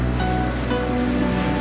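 Ocean waves at Malibu roll and wash in a continuous loud roar, dense broadband surf with no distinct breaks and no voices.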